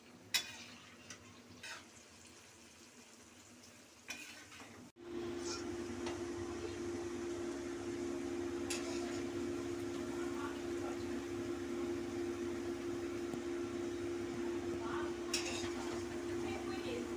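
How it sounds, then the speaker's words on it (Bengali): Palm fruit fritters (taler bora) frying in oil on raised heat, heard as a quiet, steady bubbling sizzle that starts abruptly after a few seconds of near silence and continues evenly to the end. "এবার আঁচটা বাড়িয়ে দিয়ে এটা আস্তে আস্তে ভাজবে।"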